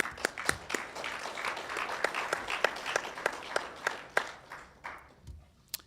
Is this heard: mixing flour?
no